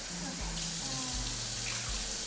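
A microwave rice steamer fills with water from a kitchen tap, a steady close gushing stream with rising tones as the container fills, and speech faintly underneath.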